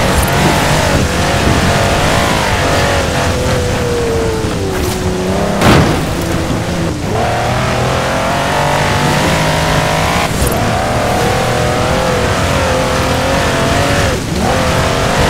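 A V8-powered six-wheel-drive 6x6 vehicle in the racing game Forza Horizon 4, its engine droning loud and continuous with shifting revs and a few sharp gear-change bursts, no voices over it.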